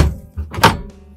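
A kitchen drawer in a motorhome slides shut, ending in one close, fairly loud thud after a short rolling rumble.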